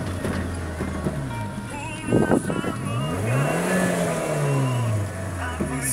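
A car pulling away during a driving lesson, with the clutch worked to go from first into second gear. The engine drones steadily and its pitch climbs and falls across a shift midway, with a brief clunk and a continuous close-up hum.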